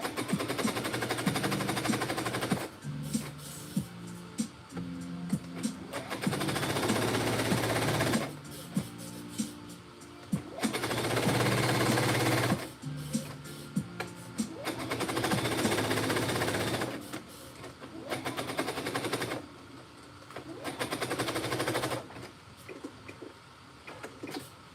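A sewing machine stitches a dress in several long runs of fast, even mechanical whirring, each lasting a few seconds, separated by brief quiet pauses and clicks.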